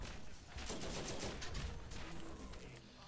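Pistol fire in the Borderlands shooter game: a dense, fairly quiet flurry of gunshots mixed with other combat noise, overlapping into a short, continuous burst.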